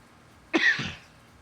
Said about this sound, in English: Still dealing with a little bit of a cough.